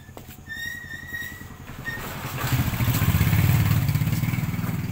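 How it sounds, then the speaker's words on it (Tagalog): A Rusi Macho 175 motorcycle engine idles just after an oil change, a steady low putter with clatter that swells louder midway and stays close. "i-start natin yung makina, yung engine."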